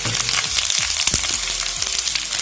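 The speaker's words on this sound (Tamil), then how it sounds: "ட்ரை டேட்ஸ், இதெல்லாம் இங்கே ஃப்ரை பண்ணிக்கலாம்." Almonds, flaxseeds, peanuts and dry dates fry in a pan with a bright continuous sizzle and crackle, punctuated by scraping stirs and light knocks, close and loud without talk.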